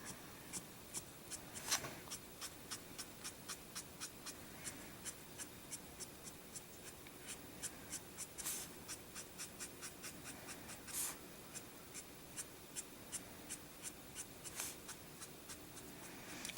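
Coloring on paper laid over a clean sheet of scrap paper for a flower-petal drawing, heard as quiet, rhythmic strokes that scratch and tick close up at a steady pace, with no talking.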